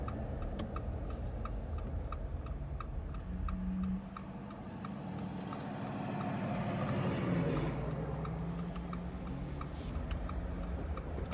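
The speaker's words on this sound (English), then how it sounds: "Tire noise is pretty minimal. You do know that they're mud terrains, but it's not as bad as you might hear on a lot of other vehicles." Inside a moving 2021 Jeep Gladiator on mud-terrain tires, a low, steady road and tire rumble with a soft periodic ticking runs throughout at modest volume, with no speech.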